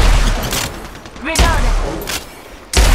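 Bursts of gunfire in the mobile shooter Apex Legends Mobile, loud broadband shots at the start and end with a quieter stretch between, plus short whistling game effects in the middle.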